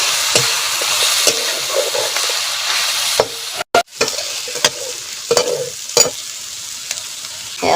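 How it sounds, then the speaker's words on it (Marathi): Onion fries in a pan with a loud, dense sizzle punctuated by sharp stirring scrapes and clacks, briefly cutting out near the middle before resuming. "कांदा भाजून घ्यायचा."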